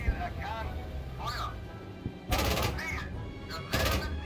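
Loud bursts of machine gun fire from the tank game GHPC crackle in short volleys, with a voice talking in between.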